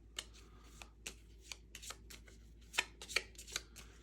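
A deck of playing cards for the Nemesis board game being shuffled, a series of crisp riffles and card snaps close by, irregular and quick, with no talk.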